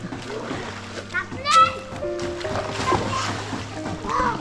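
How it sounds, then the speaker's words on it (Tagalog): Children bathe in a stream, water splashing and sloshing around them while their young voices chatter and call out over the splashes. "Naligo sila sa sapa, Soy."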